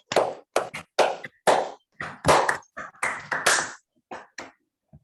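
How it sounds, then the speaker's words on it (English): Participants in an online maths talk unmute and clap, producing uneven, separate bursts of applause that cut in and out as microphones open, fairly loud, with short gaps between them and no speech. "If you can unmute and clap, that would be even better than an emoji."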